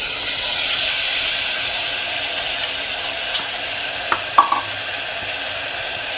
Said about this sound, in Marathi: मसाल्यामध्ये छान भाजून घ्यायचा आहे।